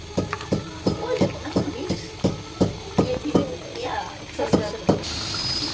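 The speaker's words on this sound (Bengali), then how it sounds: "ওই যে আমাদের কাঁকড়া বলক এসে পড়ছে তরকারিতে" A crab curry bubbling as it comes to a boil in a pot, with a run of regular clattering knocks from stirring or the pot over a low simmering background.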